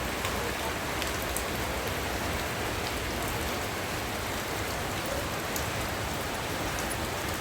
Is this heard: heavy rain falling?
yes